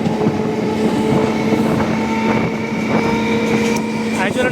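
Hyderabad MMTS local train running fast between Secunderabad and Kacheguda, a loud continuous rumble and rattle heard from inside the carriage with steady wind noise throughout.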